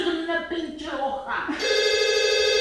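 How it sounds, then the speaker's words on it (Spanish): Telephone ringing indoors in a stage comedy scene: a voice speaks first, then a sustained electronic ring with bright harmonic tones begins and continues steadily. "¡Uy! Está sonando el teléfono"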